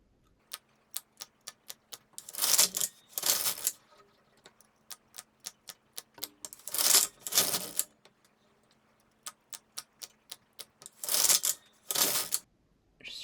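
The carriage of a knitting machine, working a scalloped border, sweeps back and forth across rows: runs of crisp rhythmic clicks alternate with longer loud whooshing passes, repeating three times in a quiet room.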